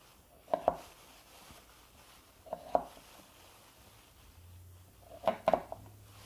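A knife chops beets into small quarter-inch cubes on a cutting board, making sparse close thuds in quick pairs and small clusters, separated by quiet pauses.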